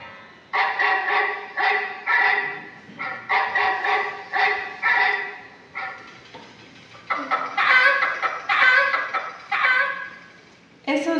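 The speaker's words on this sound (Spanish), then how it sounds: "Creo que era un perro ¿Ya? y la gallina." A dog barks in a run of several close, loud calls for about six seconds, then a hen clucks in repeated, louder bursts for the rest, with no talk.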